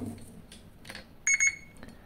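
Two short, sharp electronic beeps in quick succession from a digital multimeter continuity test on a fuse, clear and close, over faint background noise.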